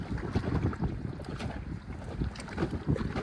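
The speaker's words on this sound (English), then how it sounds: "I'd been rowing for a couple minutes." A small rowboat is rowed on choppy water in heavy wind, with irregular splashes and sloshing of the oars under steady wind buffeting on the microphone, with no talking.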